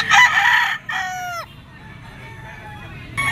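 A two-year-old black pumpkin bloodline gamefowl rooster crows loudly and close, a long strained call that breaks off, followed by a quieter stretch and the start of another call.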